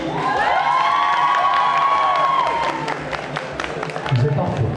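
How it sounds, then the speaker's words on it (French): A crowd at a cosplay contest cheers, whoops and applauds in a test run, with shrill sustained shouts rising over the clapping before it thins out and a voice begins. "On va faire un petit test d'applaudissements pour voir"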